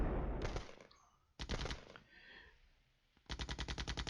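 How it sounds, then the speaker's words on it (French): Artillery and gunfire in the Cold War wargame Flashpoint Campaigns: loud bursts of rapid fire, three separate volleys with brief quieter gaps, ending in a rhythmic repeated burst. "Là, on subit des tirs d'artillerie."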